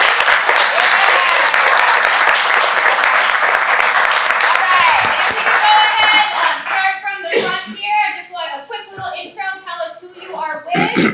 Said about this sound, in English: If you are here, let's give a round of applause.